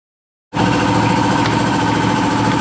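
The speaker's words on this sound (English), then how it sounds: "compressor's on" After half a second of silence, an air compressor switches on abruptly in a garage where it is used to check for turbo leaks. It runs loud and steady with a dense, continuous mechanical roar and no speech.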